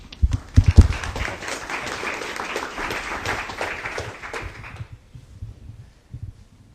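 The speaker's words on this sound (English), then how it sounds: "Would you please join me with a round of applause?" An audience applauds a speaker at a lecture on cars and climate policy, a loud sustained wash of clapping that fades out after about five seconds, leaving faint room noise.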